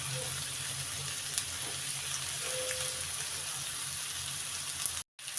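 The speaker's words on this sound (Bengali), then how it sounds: "হলুদটা দিয়ে আলুটা ভাজা ভাজা হয়ে গেছে" Potatoes with a little turmeric frying in a pan, a soft steady sizzle at low level with faint clinks, briefly cutting out near the end.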